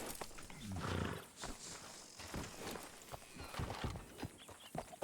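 Horse hooves clip-clop at a steady walking pace in a GoldRush RP video game setting, close and moderately loud, mixed with soft rustling and a brief animal snort early on.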